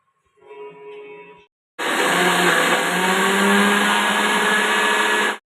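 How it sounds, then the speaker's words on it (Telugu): A short, lower whirring start, a pause, then a loud, steady high-pitched motor roar of a mixer grinder grinding henna leaves for several seconds before cutting off. "గోరింటాకైతే మిక్సీ వేస్తున్నానండి"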